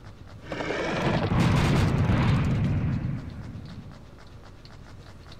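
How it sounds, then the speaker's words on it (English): A rocket launcher in the shooter Serious Sam: The Second Encounter HD fires and detonates, a loud rumbling explosion that swells and then decays over a few seconds into quieter game ambience, with no voices. "I feel like playing with the rocket."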